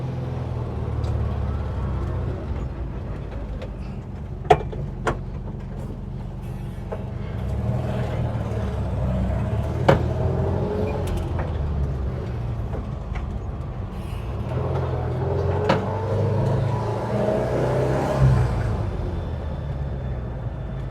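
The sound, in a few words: VW bus engine running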